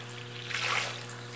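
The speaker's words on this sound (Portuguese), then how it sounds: "Vou colocar mais um pouquinho de água." Water poured into a liquid coconut soap mixture, a soft trickling splash that swells briefly and fades over a quiet hum.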